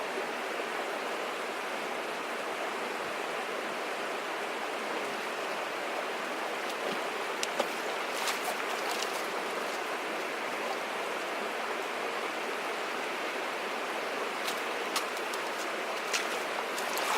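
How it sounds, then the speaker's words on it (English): A small mountain creek with native brook trout, flowing over a deep hole in West Virginia woods, makes a steady broadband rush of running water, continuous and fairly close, with a few faint clicks and no voices. "So here's the creek."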